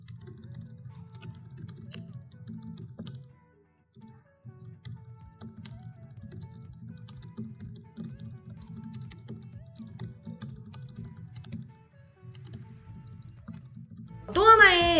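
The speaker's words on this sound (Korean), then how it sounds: "이 로지텍 크래프트의 경우는 가위형 그 펜타그래프 방식의 키보드로 일단 키압이 낮고" Quiet, low-force typing on a Logitech Craft scissor-switch (pantograph) keyboard, soft rapid key taps running steadily with a brief pause, ending in a burst of speech.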